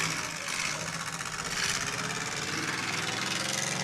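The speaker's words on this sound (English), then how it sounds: "Sounds like there's yet another cylinder gone." At a demolition derby, a battered car's engine runs rough and uneven with a dead cylinder. It gives a loud, continuous buzzing drone with a ragged, stuttering pulse that holds steady throughout.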